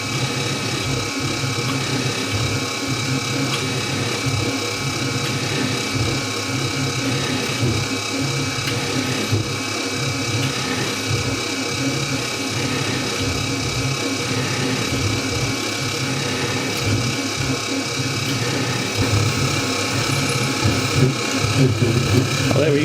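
A machine spindle taps a threaded hole through metal, its cutting lubricated with tapping fluid, giving a continuous close mechanical whirring with a steady ratcheting, geared texture that runs unbroken throughout.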